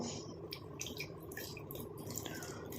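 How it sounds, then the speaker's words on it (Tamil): Rice-washing water is poured into a hair mixture in a bowl, a soft continuous trickle with small drips and splashes, close and quiet. "இந்த அரிசி கழுவுன தண்ணியை தாங்க இதுக்கு பயன்படுத்த போகிறோம்."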